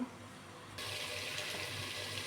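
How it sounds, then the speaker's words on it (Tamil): Water runs steadily from a tap into a container of rice being rinsed, a close splashing flow starting partway in and continuing without pause. "இதை நல்லா கழனி பிணைஞ்சி தண்ணியை வடித்து வச்சுக்கலாம்."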